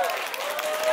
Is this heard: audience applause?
yes